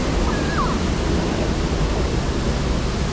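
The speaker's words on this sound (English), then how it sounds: "We're getting splashed." Water rushes and splashes constantly around a raft on the Intamin River Rapids ride, a loud, dense, noise-like wash with no breaks and no voices.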